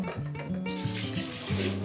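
Tap water runs steadily after a brief pause, rinsing blanched bones in a home kitchen while preparing hot pot broth; a close, continuous hiss with a low hum beneath.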